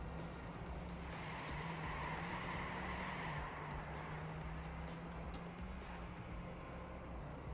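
A race car in a racing video game holds a steady engine drone through a final corner, with faint tire squeal over constant background noise.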